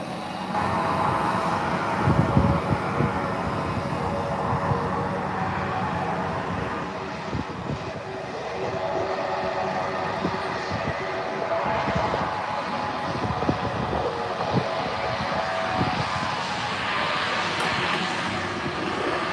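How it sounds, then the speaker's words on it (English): An Embraer 145 regional jet taxiing at an airport, its engines a steady, broad turbine roar with a whine on top that holds at a constant level throughout, heard from a moderate distance. "heading to St. Martin on the Embraer 145. Now taxiing via Sierra for a north-side departure at runway 8"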